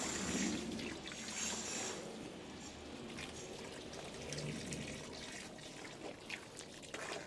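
Water poured from a hose into a cement and sand mix for building a garden brick wall, a steady trickling, splashing pour, fairly close and moderately loud throughout with no talk.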